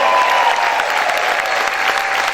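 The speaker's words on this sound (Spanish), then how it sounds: "¿Cuántos pueden gritar y aplaudir fuerte al Señor?" A church congregation claps and shouts loudly in praise, a dense continuous wash of applause and voices from a large crowd lasting a couple of seconds.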